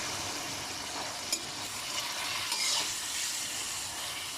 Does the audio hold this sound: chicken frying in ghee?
yes